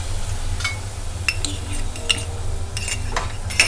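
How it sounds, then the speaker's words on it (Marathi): A spoon scrapes and clinks against a pan as yogurt is stirred into bhendi masala, giving several light, irregular metallic taps over a low steady hum, fairly close and quiet. "म्हणजे मसाला त्यात आपण हे मिक्स करून घ्यायचं आहे."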